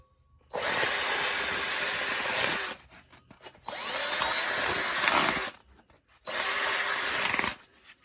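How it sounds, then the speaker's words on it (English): A power drill bores holes in cutters in three loud, sustained whining bursts of about two seconds each, with short quiet gaps between them. "I've got these cutters, and I'm going to drill holes in them."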